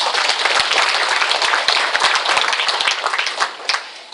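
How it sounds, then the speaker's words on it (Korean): A church congregation breaks into loud, dense applause that carries on steadily and begins to thin out toward the end. "우리 경례 박수 한번."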